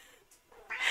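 A cat, heard from outside a door, lets out a single short meow near the end after a quiet stretch.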